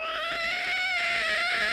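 A stage comedian imitates a cat's voice in a Malayalam comedy show, a steady, tonal meowing wail with layered harmonics that holds for nearly two seconds, close and fairly loud, with no talk over it.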